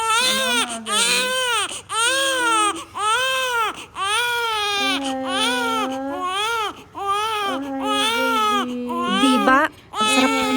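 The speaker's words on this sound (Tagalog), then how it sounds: "Ang sarap pakinggan ng mga iyak ng mga batang sanggol" Several newborn babies wail and sob in a Japanese maternity hospital ward, overlapping cries rising and falling in long breathy bursts, loud and close with brief pauses between.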